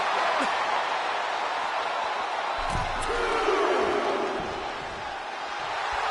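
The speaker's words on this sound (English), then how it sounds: "The sound of this crowd is deafening, and he's asking for more." A wrestling arena crowd in a WWE video game roars in a dense, continuous wash of cheering. It holds steady throughout, with a thud and brief shouts rising out of it midway.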